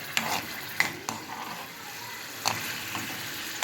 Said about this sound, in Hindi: चम्मच चलाते रहें